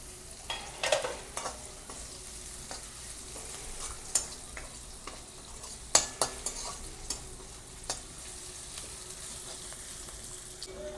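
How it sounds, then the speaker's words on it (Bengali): Onion frying in a pan with a soft continuous sizzle, broken by a series of sharp utensil clacks and scrapes as it is stirred, close and moderately loud. "একটু ভেজে নেব পেঁয়াজটা।"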